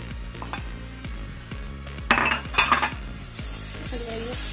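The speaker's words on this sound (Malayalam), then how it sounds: "ഓയിലിലോട്ട് നമുക്ക് പൊടികൾ ഇട്ട് കൊടുക്കാം." Ground spices such as coriander and chili powder frying in hot oil for dhaba-style chana masala, a steady close sizzle with a spoon stirring and scraping the pot, plus two louder bursts of clattering partway through.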